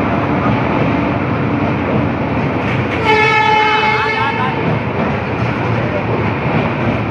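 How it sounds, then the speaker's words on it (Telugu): A train pulls into a station, its horn sounding a sustained harmonic blast midway through over a steady rumbling wash of rail noise and crowd murmur. "సో ఫ్రెండ్స్ మా ట్రైన్ వచ్చేసింది"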